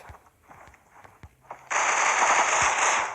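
Critical Ops game gunfire snaps in scattered faint shots, then erupts into a loud, sustained crackling burst at close range.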